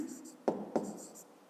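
A pen writing numbers on paper, with soft scratching strokes and two sharp taps close by during a short stretch of quiet.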